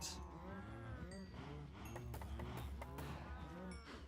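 Cows mooing in Minecraft, many overlapping moos from a crowded herd with frequent calls throughout, fairly faint overall.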